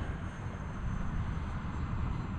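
A jet-powered flying wing model aircraft flies at a little over half throttle, giving a steady, faint rushing roar from a distance with no talking.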